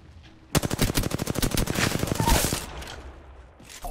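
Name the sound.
gunfire from an R-301 rifle in the video game Apex Legends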